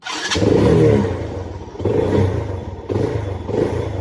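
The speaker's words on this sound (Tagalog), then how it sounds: "Yung motor ko nga pala na itong motor ko na to, kahit luma na pero kondisyon na naman." An old but well-kept motorcycle's engine runs loud and close, its low rumble swelling in several uneven surges as it is revved, with no voices.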